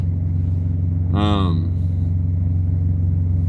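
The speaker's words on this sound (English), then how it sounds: "So we got the APU doing its thing" Idling auxiliary power unit on a truck on a cold morning in Kansas, a steady low droning hum throughout, with a brief voice rising over it midway.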